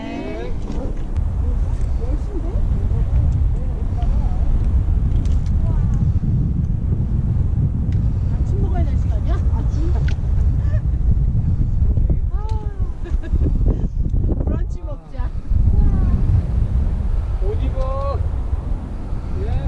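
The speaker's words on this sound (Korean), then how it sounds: "바람이 불어오고 있습니다" Strong wind roars across the rocky mountain summit at Angels Rest, a constant loud rush buffeting the microphone, while people talk underneath it throughout.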